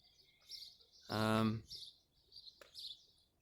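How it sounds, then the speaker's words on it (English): A small bird in a birdhouse gives faint, high chirps at intervals, and a brief voice-like tone sounds partway through. "There's a bird up there in that house"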